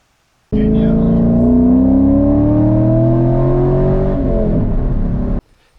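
A Nissan Titan XD truck's VK 5.6 V8 revs loud and close, pitch climbing steadily as the engine winds up then easing off near the end before cutting out.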